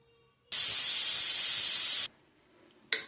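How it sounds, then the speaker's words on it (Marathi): A pressure cooker cooking rice, dal and vegetables vents steam in a loud, steady hiss for about one and a half seconds, then falls quiet before a second short burst begins at the end. "भाजी मी कुकरला शिजवून घ्यायची आता 3-4 शिट्यांमध्ये."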